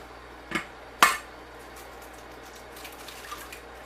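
Eggs cracked against a bowl rim for zucchini bread batter: two sharp, close taps about half a second apart, then quieter faint clinks and rustles.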